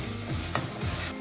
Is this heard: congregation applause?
no